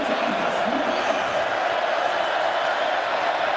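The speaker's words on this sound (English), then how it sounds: "Crowd making some noise, trying to keep them out on 4th down." A steady roar of stadium crowd noise fills a college football game between USC and Stanford as fans try to disrupt a fourth-down play, a dense continuous wash of voices with no distinct cheers standing out.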